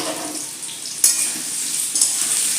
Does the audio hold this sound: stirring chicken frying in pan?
yes